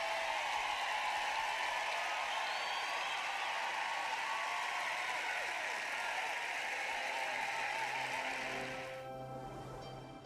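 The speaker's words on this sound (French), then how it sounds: "Applaudissons à Dave." Audience applause for Dave, a broad continuous wash of clapping from a sizable crowd that holds steady and then thins slightly toward the end.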